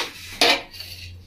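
Raw shrimp drop into a metal mixer grinder jar in a home kitchen, making a single sharp clink and clatter followed by a short fading rattle.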